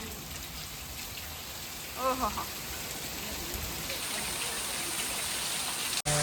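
Heavy rain falls steadily with strong wind in a hot, breezy outdoor spot, a broad continuous hiss throughout; a brief exclamation cuts in around two seconds and a sharp knock comes near the end.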